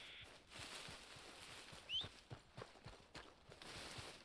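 Horse hooves clip-clop at a steady walking pace over a soft background hiss, with a brief bright chirp partway through, in the video game Red Dead Redemption 2.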